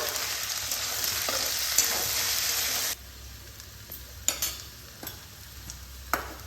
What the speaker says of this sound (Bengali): এবার আমি এখানে বেটে রেখেছি কাঁচা লঙ্কা আর গোটা জিরে এটা এর মধ্যে দিয়ে দিচ্ছি এটাকেও ভালোভাবে কষিয়ে নিতে হবে